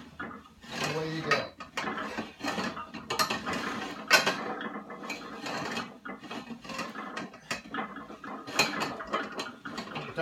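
A vertical leg press machine's sled clanks and rattles as it moves, with repeated metallic knocks and grinding mechanical noise at close range.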